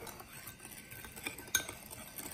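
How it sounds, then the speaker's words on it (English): Pho ga chicken broth seasoned with fish sauce being stirred in a pot, with soft scraping and a few light utensil clinks against the side, one sharper clink standing out midway. "I'm going to stir."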